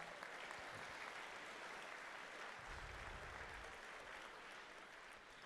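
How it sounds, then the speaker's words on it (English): Steady applause from an audience at a miniature painting competition awards ceremony, a dense even wash of clapping heard alone and held for several seconds, easing slightly at the end. "Let's get a round of applause."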